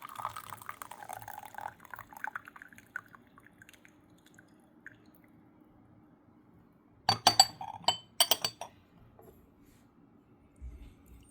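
Meng Song Shu Puerh tea wash is poured off, with a faint trickle at first, then a brief cluster of clear glass and ceramic clinks, and quiet in between.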